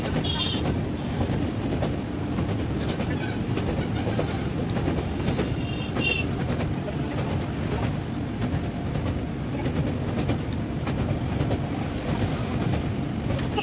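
Sealdah–Puri Duronto Express rolling over the Ganga bridge near Dakshineswar, a steady loud rumble of the train and wheels that holds constant throughout, with faint clicks on top and no talking.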